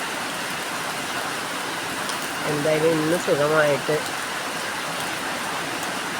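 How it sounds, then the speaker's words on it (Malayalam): Steady rain hisses throughout, dense and even, while a person speaks briefly partway through. "അതുപോലത്തെ ഒരു മഴയാണ് ഞങ്ങൾക്ക് ഇവിടെ കിട്ടുന്നതെന്ന്."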